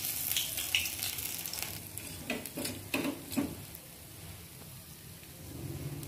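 Fish sizzling in hot oil in a pan, a continuous crackling fry with a few sharp spatters and light utensil clinks, close and fairly loud, with no voices.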